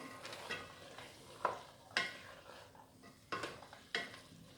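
Potatoes and peas being stirred into minced keema frying in a pan, with a soft sizzle beneath and several sharp scrapes and clinks of a spoon against the pot, heard close and fairly quiet.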